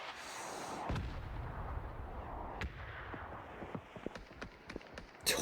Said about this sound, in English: Please, let these mortars hit something.